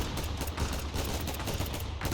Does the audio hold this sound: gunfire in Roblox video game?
yes